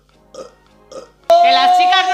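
A loud, drawn-out burp erupts suddenly and fills the second half, after two faint brief sounds in near silence.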